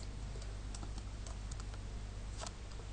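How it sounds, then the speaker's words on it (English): Soft keyboard typing while entering a software name into a search bar, a run of light irregular key clicks over a steady low hum, fairly quiet and close. "If we type in Serif"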